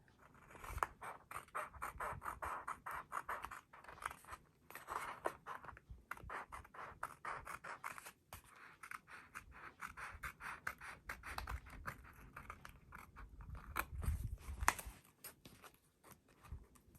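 Scissors snipping paper for a scripture journal, faint close-up crisp cuts in quick irregular runs with short pauses, quiet and alone.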